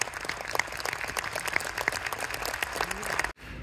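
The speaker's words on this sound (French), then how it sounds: "Mesdames et messieurs les enfants, avec vos applaudissements, F30, Lucas Santini et bien sûr Eclipse." Children and adults in the audience applaud after a show at Futuroscope, a dense sustained burst of clapping with scattered louder claps that cuts off abruptly near the end.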